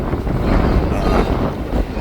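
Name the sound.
wind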